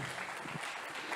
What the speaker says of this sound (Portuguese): Aplaude o teu Deus então